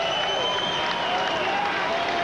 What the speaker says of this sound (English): the crowd is on its feet roaring